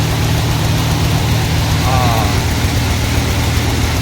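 A tractor engine runs steadily at close range during groundnut threshing on a farm, a loud, continuous low rumble that masks everything else.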